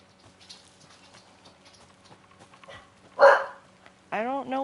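In Alan Wake 2, a dog gives a couple of short, close barks, the last a louder sustained yelp, following a quiet stretch of faint background sounds and soft rustling.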